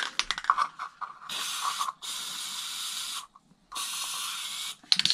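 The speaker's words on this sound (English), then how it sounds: "Spray it in." A spray can of conformal coating hisses in long continuous bursts over RC car electronics, with short clicks and rattles before the first spray and pauses between bursts.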